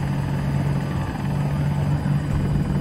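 A Battlefield 2042 attack helicopter in flight, its rotor thudding in a loud steady low throb with a constant engine drone that stays close and unbroken.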